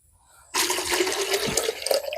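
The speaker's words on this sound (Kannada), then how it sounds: "ಸದ್ಯಕ್ಕೆ ಇದನ್ನೇ ಕೊಯ್ದ್ಬಿಟ್ಟು ಈಗ ನೀರು ಹಾಕೊಂತ ಇದೀನಿ ನೋಡಿ ಫ್ರೆಂಡ್ಸ್." Water pours from a bottle into a cooking pot of chicken biryani. It starts abruptly after a short quiet moment and continues as a steady, close, splashing rush.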